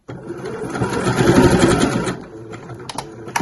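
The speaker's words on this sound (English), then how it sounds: "So I'm just going to carefully retrace my stitches along each of those corners just to reinforce them." A sewing machine runs a short burst of reinforcing stitches over the corners of a fabric pencil case, a close rapid mechanical whir that rises and then stops, followed by a few small clicks.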